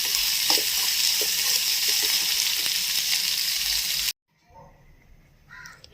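Onions sauté in a hot pan with a steady, close sizzle and faint stirring ticks, then the frying cuts off abruptly, leaving a quiet stretch with a few faint distant sounds.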